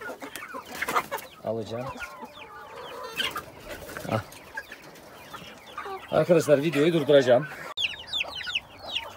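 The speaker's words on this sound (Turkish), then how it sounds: "Bu denizli civcivimiz Hintlerin içinde kaldı." A Denizli breed chick and other fowl cluck and chirp in a farm coop, with repeated close clucks and a louder burst of calls midway, while someone talks intermittently over them.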